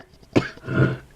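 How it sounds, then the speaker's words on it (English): A person with a lingering cough lets out a single harsh, close cough burst partway through, followed by a rough throaty exhalation, in a quiet indoor room. "I'm going to try to cut out my coughing because it just will not go away."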